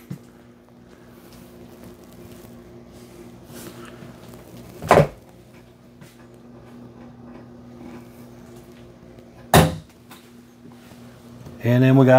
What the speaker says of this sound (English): Definitely some strong magnets on these doors.